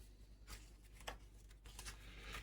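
A deck of room cards from a dungeon card game is shuffled, quiet riffling bursts in a quick uneven rhythm, close and faint with no talk.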